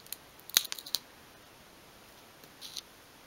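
Scissors snip through thin card while trimming the ends of a 1/12th scale miniature dressing table: two or three sharp close cuts, then a softer snip after a pause, quiet and alone with no talk.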